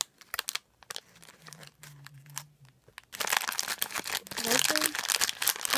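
Crinkly plastic rustles and tears as a small LEGO minifigure blind bag is handled and opened up close, with voices speaking briefly in the middle.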